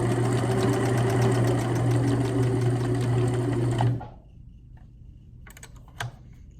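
A sewing machine stitching around a towel pet bed filled with batting, a loud steady rapid whirring hum that stops abruptly, followed by a few faint clicks and handling sounds.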